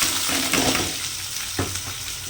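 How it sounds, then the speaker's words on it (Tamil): Sliced onions hit hot oil in a pan for egg rice, giving a steady broadband sizzle with a few brief stirring scrapes across a short stretch, with no talk. "எண்ணெய் நல்லா காஞ்சிருச்சு. நம்ம வெங்காயத்தை போட்டுக்கலாம்"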